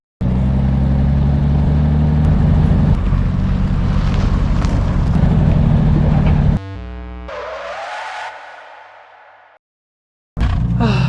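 A homemade car pieced together from assorted car parts drives along with a loud, rough engine drone and wind buffeting. The engine then winds down through a whining, shifting tone before a short silence and a burst of noise.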